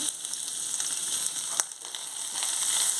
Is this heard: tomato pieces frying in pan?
yes